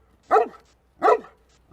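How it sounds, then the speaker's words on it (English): Single dog barks in a virtual experience sound design, two loud close woofs about a second apart in otherwise quiet surroundings. "He's just barking once, like woof"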